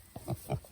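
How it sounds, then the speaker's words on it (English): A pig at a goat shelter gives a few soft, low grunts in quick succession, faint and close with no talking over them. "Hey, Pig Pig, what are you doing?"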